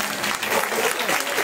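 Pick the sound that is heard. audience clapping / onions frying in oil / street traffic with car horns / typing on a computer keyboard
audience clapping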